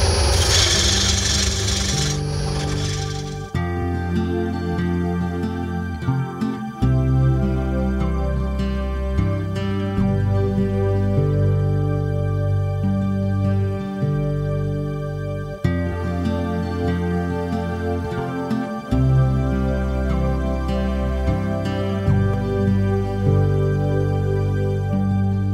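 Wood being carved out of a square wooden bowl by hand, with continuous rough rasping and scraping strokes that run steadily and close up throughout, with brief pauses between passes.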